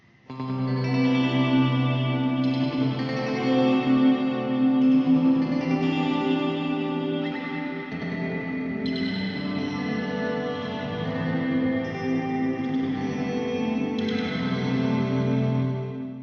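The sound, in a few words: electric guitar with delay and reverb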